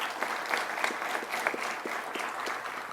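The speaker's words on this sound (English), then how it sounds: "Let's give them a round of applause before you even know who they are." An audience in a room applauds civilian staff about to be promoted, a steady moderate patter of many hands with a few distinct claps standing out, heard alone at middling distance.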